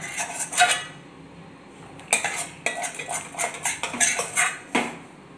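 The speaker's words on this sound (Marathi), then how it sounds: "आता या उलथण्याच्या सहाय्यानेच अशा प्रकारे पसरवून घेते मी" A metal spatula scrapes and spreads thick carrot barfi mixture across a pan, giving a run of close, irregular scraping and clinking strokes with short pauses between them.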